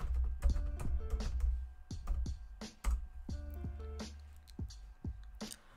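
Keys on a computer keyboard are tapped at an irregular pace as a terminal command is entered, with close, crisp clicks in short bursts separated by brief pauses.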